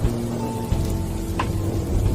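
Rain falls steadily in a street scene, a continuous hiss of drops on surfaces with a low background rumble and one brief sharper tap.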